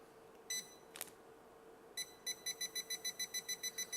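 A Scubatector underwater metal detector emits sharp electronic beeps: a single beep, a pair, then a rapid run of evenly spaced beeps as its power level is set, heard clearly in a quiet room.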